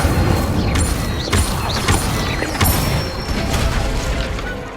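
Incendio fire spell effects in Hogwarts Legacy, a dense, continuous roaring whoosh with crackling bursts and mechanical clatter, loud and steady throughout.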